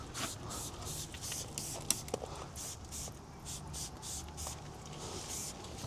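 Tar remover misted from a spray bottle onto the tires of a brand new BMW X5 to lift dealer dressing, a string of short close hissing bursts repeating in quick rhythm over a faint background.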